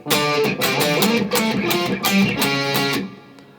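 Electric guitar plays the intro line of the Black Butler opening theme in octaves, bright and driving, with repeated picked notes running continuously for several seconds.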